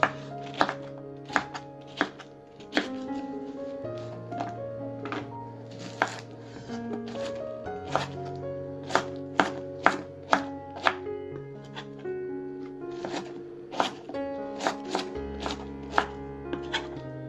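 Four peeled pineapples being cut into pieces with a knife on a cutting board, sharp irregular chopping thunks repeated throughout under faint background music.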